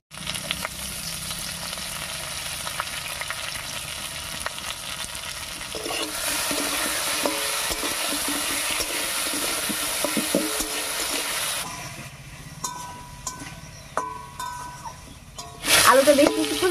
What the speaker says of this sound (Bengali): ফোড়নের উপরে আলুটা দিয়ে একটু নাড়িয়ে নিয়েছি